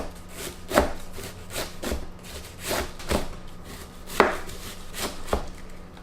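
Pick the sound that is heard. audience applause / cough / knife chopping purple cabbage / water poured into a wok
knife chopping purple cabbage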